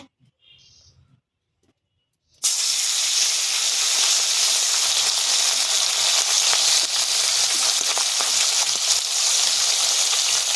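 Morola fish dropped into hot oil in a kadai, starting with a quiet stretch of faint clatter before a sudden loud burst of steady, hissing sizzle that carries on unbroken and close.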